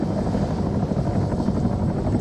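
A helicopter flies nearby, its rotor and engine making a steady, dense rumbling roar throughout with no voices over it.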